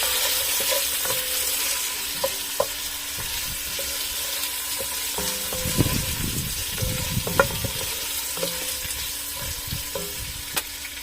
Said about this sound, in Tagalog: Pinalabas ko yung mantika ng taba.